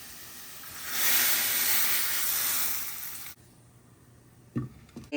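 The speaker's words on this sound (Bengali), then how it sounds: "একটুখানি ডাল নিয়ে এখানে, এটাকে বলে তরকা, ডালে তরকা দেওয়া।" Hot oil with dried chili powder for a dal tadka gives a loud, steady hiss and sizzle that swells and holds for a few seconds, then drops away abruptly, leaving a quieter background with a couple of soft clatters.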